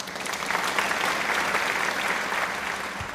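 A seminar audience applauds at the close of a presentation, steady clapping from many hands filling the room for several seconds at moderate distance.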